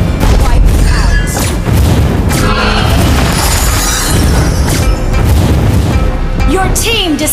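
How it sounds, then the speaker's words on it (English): Loud, booming explosion and crashing debris as a turret is destroyed in Mobile Legends: Bang Bang, layered over busy battle effects and chiming game sounds that continue throughout the clip. "Your team destroyed a turret."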